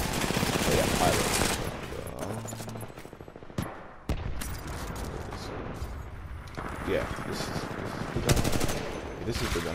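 Gunfire in the Titanfall shooter game, a fairly steady spray of rapid shots with a few sharper bangs, moderately quiet and mixed with other game sounds.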